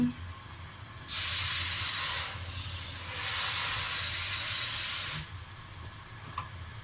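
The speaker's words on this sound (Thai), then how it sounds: "โอเคจ้าน้ำเริ่มเดือดแล้วนะคะ" A loud, steady hiss rises abruptly from a pot of water coming to a boil, holds for about four seconds with a slight dip midway, then cuts off, leaving quiet room noise.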